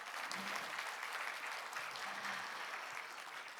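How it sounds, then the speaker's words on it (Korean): Sustained audience applause fills a conference award ceremony in a large hall, a steady wash of many hands clapping at even loudness throughout, with no voices over it. "다시 한번 나성훈 원장님께 큰 박수 부탁드립니다"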